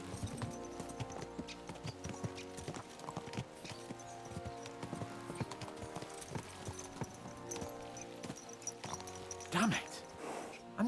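Horses' hooves trot in the medieval video game Kingdom Come: Deliverance II, a steady rhythmic clip-clop running throughout beneath someone speaking.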